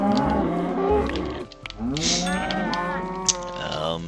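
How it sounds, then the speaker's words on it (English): Minecraft cow mooing, a video game farm animal loose in a potato crop; two long, close, drawn-out moos follow one after another with a short pause between them. "There's a rogue cow in the potato crop."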